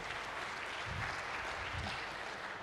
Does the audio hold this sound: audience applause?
yes